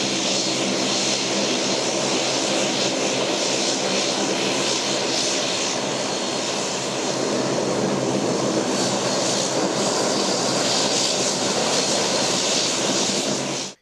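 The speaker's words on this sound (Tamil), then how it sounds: "சென்னையிலிருந்து தூத்துக்குடி சென்றடைந்த விமானத்தின் மீது தண்ணீரை பீச்சிகடித்து உற்சாக வரவேற்பு" A SpiceJet airliner from Chennai arrives at Thoothukudi airport, its engines giving a loud, steady roar that holds for the whole stretch with no voices, then cuts off abruptly at the end.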